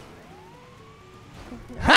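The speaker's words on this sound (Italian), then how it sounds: "Arriva l'ambulanza!" An ambulance siren in the video game GTA 5 wails faintly in the distance as a single rising-falling tone, before a loud burst of noise cuts in at the end.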